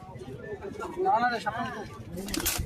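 Pigeons coo softly at the bustling Beldanga pigeon market in Murshidabad, their low rolling calls mixed with nearby talk and a brief rustle of wings or handling near the end.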